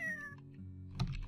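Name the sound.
cat meowing, from video game Dwarf Fortress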